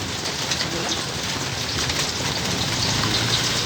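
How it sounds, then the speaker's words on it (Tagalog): Steady rain falls in the afternoon as the sky darkens, a dense, even hiss of drops on surfaces that holds at the same moderate level throughout, with no voices. "maulan"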